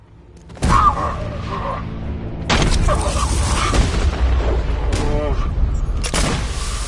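Grenade blasts go off in Batman: Arkham Knight near an exploded chemical factory. Three heavy, close booms strike several seconds apart, each leaving a long rumbling tail, with voices faintly in the mix.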